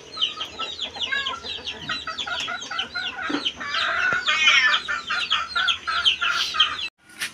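Chickens and chicks at a home in Tagaytay cluck and cheep continuously, a busy overlapping chorus of short calls close by, with a rooster-like crow mixed in, no talking.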